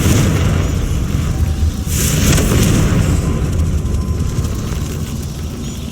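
A Confringo blasting spell explodes in Hogwarts Legacy, a loud, sustained boom with a deep rumbling roar and a brief crackling burst near the middle that slowly fades.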